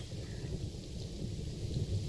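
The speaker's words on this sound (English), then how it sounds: "while it rains" Rain and thunder in a zoo management video game, a steady dense wash of rainfall with low continuous rumbling, moderately quiet and without talk.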